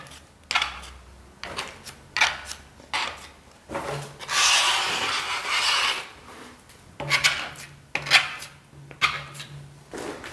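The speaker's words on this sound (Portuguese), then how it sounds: "Só passar uma esponjazinha finalizando, dando aquele acabamento final." A sponge rubs grout along the edge of a granite kitchen sink, producing close, rasping scrubbing strokes in irregular bursts with one longer continuous swipe in the middle.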